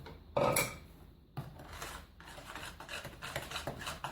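Cake batter of almonds, flour and baking powder being mixed in a bowl, soft scraping and clinking of utensil against the bowl in irregular strokes, faint and close, after a brief louder clatter.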